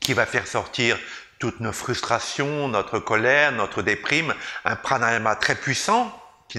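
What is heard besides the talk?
No distinct noise like a dog, phone or traffic.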